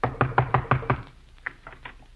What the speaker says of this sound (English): Come on, I'll knock on the door.